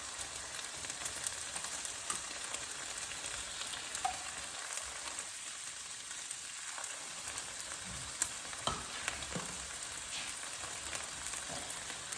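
Diced tomatoes cook in a pot for a loaded pasta dish, giving off a steady soft sizzle and crackle with occasional louder pops and a brief quieter lull, no voices.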